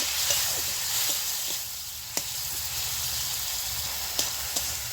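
Masala for a vegetarian ash gourd curry frying in a pan after a splash of water, a steady hissing sizzle with a few faint clicks of the spoon against the pan, close by.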